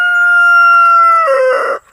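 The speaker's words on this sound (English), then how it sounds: "I hear you, Mr. Rooster." A rooster lets out one loud, close crow with a long sustained note that breaks into a rough falling ending.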